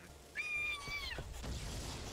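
A cartoon cat in the video game Emily the Strange gives a single drawn-out, wavering meow with a clear tonal pitch that slides down at the end, followed by a thump and some muffled rumbling.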